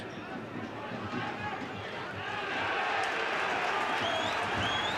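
Crowd noise swells at a League of Ireland Premier Division football match between Derry City and Sligo Rovers after a near miss, a broad distant roar building louder, with a commentator talking over it.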